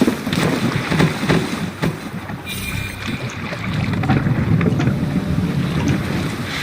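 Oars of a Viking longship pulling through water in Assassin's Creed Valhalla, rough splashing and sloshing with wind noise, loud and close, and no voices.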